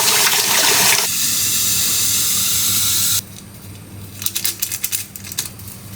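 Water pours and splashes while the water in a flower vase is being changed, a steady loud rush that cuts off into quieter trickling and a few splashy bursts.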